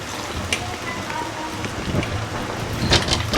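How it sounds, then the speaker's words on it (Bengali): Water poured into a frying potato and pointed gourd curry sets off a sizzling, crackling hiss across the pan, steady and close with brief louder spatters near the end. "এর মধ্যে দিয়ে দেব সামান্য পরিমাণে জল।"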